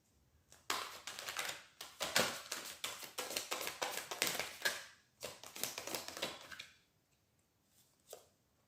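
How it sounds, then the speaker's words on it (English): Tarot cards are shuffled by hand close up, a quiet run of rapid riffling and flapping bursts with short pauses, ending in a single soft tap. "Okay, too many cards fell out, so we have to just shuffle again."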